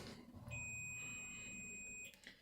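Steady high electronic tone from a multimeter in continuity/diode mode while testing a fuse and varistor on an LCD television's switching power supply board, lasting about a second and a half before cutting off, with faint handling noise around it.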